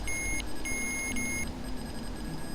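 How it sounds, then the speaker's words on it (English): Faint electronic beeping from an EMF meter in a forest, a few short high tones repeating, over a low background hiss with no talking. "So when this beeps, something is disrupting the magnetic field around the device."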